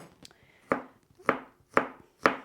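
A knife chops through a garlic clove on a cutting board with four sharp, evenly spaced thuds, close and clear, with quiet kitchen sounds between the strikes.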